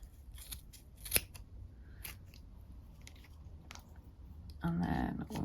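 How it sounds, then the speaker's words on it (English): Scissors snip around the edge of a crochet beanie, giving a few sharp close clicks and small cutting sounds, with a louder rustling handling noise near the end. "and snip all the way around one side,"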